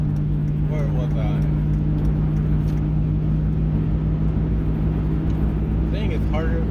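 A car cruising along a highway gives a steady, loud, droning road and engine rumble throughout, with faint voice-like sounds occasionally showing through.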